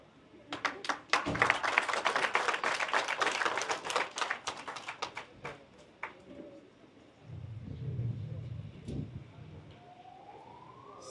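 Applause from an audience at a World Sickle Cell Day event in Senegal, a burst of clapping for several seconds that fades, followed by quieter crowd murmur and a faint rising tone.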